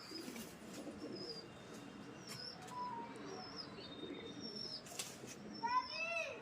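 Pigeons at a pigeon-racing gathering, soft cooing and a few quick bursts of flapping wings with scattered chirps, fairly faint over a steady background and people talking nearby.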